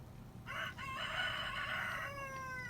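A rooster crows loudly and close by, one long drawn-out cock-a-doodle-doo lasting nearly two seconds over a low background rumble.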